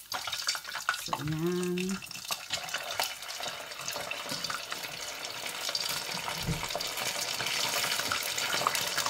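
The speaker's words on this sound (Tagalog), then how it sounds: "Mag chicken fry tayo kasi luto na rin yan." Chicken pieces for Japanese karaage fry in hot oil, a continuous dense sizzle that holds steady, broken early by a short spoken word and a brief low knock.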